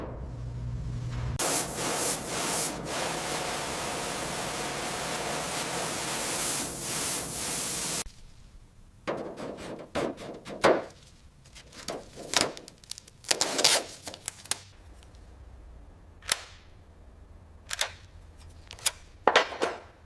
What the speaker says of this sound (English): We're using a sharp scraper here to remove the brittle filler.